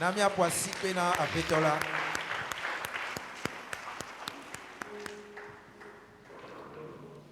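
A church congregation breaks into applause during a service, with voices talking over the first moments before the clapping thins into scattered, sharp individual claps.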